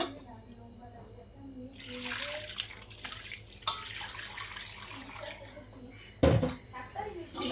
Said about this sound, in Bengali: ময়দাটাকে ধুয়ে নিতে হবে এইভাবে